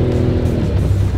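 Racer off-road buggy climbing uphill, a close, loud, rough engine rumble held steady for a moment with gravelly low-end churn.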